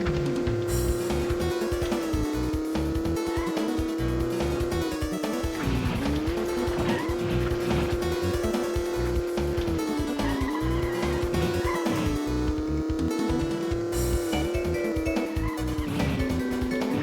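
Video game cars in Road Trip Adventure on the Lava Run Raceway pile up with continuous engine drone, skidding and tire squeal, loud and steady with crunchy bursts throughout.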